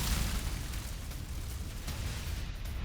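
An IED sets off an explosion inside a building, heard as a loud, sustained blast of deep rumbling noise that lingers without fading for nearly three seconds.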